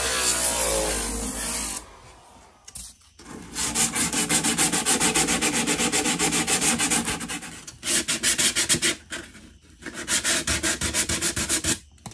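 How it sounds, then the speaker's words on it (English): Sandpaper rubs back and forth over a wooden workpiece during a build, loud and close, in several long bursts of rhythmic scratchy strokes separated by brief pauses. "Probably help to have sandpaper, wouldn't it?"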